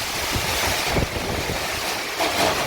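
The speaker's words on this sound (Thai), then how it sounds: "ลมพัดสังกะสีฮือ" Wind gusts against corrugated metal roof sheets in a continuous, loud roaring rush with slight swells, close by and without voices.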